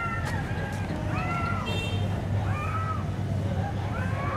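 A cat meows several times in drawn-out, rising and falling calls, moderately close, over a steady low background hum.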